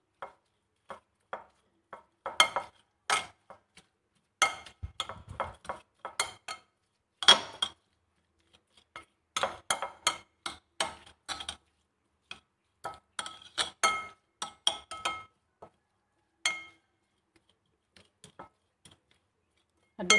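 A spoon stirring Thai mango salad dressing with palm sugar, heard as a rapid series of light, close clinks and taps against a bowl, bunched into irregular bursts with short quiet gaps.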